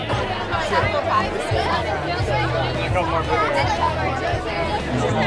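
Crowd chatter fills a craft beer festival, a dense murmur of many voices mixing nearby and farther off, with no single voice standing out.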